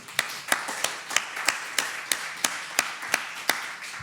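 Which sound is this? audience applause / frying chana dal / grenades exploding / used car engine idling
audience applause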